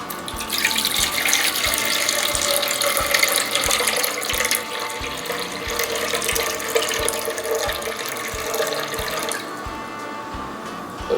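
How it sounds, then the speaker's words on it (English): Water pours steadily from a container onto a kitchen scale for pizza dough, a continuous close splashing trickle that runs for about nine seconds before thinning out. "I'm going to use 360 grams of water."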